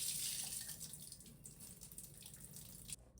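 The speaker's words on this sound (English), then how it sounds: "so I first have to rinse it with warm water" Warm tap water runs steadily to rinse a wig freshly dyed green, a close, hissing splash that fades slightly near the end.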